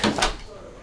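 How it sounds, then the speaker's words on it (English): Two quick thuds in succession as a handmade door of solid Bubinga wood is shut, close and fairly loud, followed by quiet room tone. "Door's closed."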